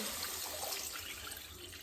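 Water pours from a container into a pot of soup during home cooking, a continuous splashing stream heard up close and fairly quiet, with no talking.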